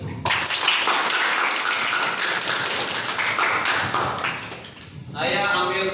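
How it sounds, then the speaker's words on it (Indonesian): Classroom applause for classmates' answers, a dense burst of many hands clapping together for about five seconds before fading, followed by a voice starting to speak. "tepuk tangan buat jawaban teman-teman tadi"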